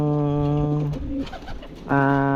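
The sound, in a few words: pigeons cooing in a pigeon loft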